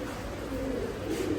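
A pigeon coos softly in a low, murmuring call amid constant background noise, heard briefly near a loft where pairs are kept.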